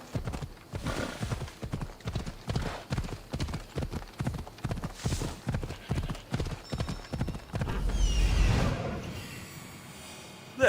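A horse gallops in Assassin's Creed Odyssey, loud rhythmic hoofbeats pounding close and steady, then breaking into a whinny and snort before a surge of noise and a sudden sharp hit at the end.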